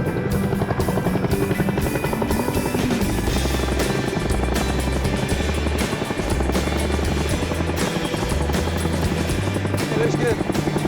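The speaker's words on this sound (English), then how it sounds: "And another Chinook's ready for the combat zone." A Chinook helicopter being run up for the combat zone in Afghanistan, its twin rotors beating in a loud, steady, throbbing roar with a constant engine whine, close by and continuous throughout.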